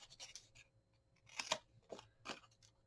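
Several crisp snips of scissors trimming scored pieces of craft paper for a mini album, quiet and close, in short irregular bursts with pauses between cuts.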